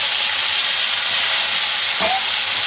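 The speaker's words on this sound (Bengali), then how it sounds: "শুকনো লঙ্কা তেজপাতা ফোড়ন দিলাম, দিয়ে মাছের মাথাটা দিয়ে দিলাম" A hilsa fish head fries in oil with dry red chilli and bay leaf. A steady, even sizzling hiss continues throughout, with a brief chirp near the end.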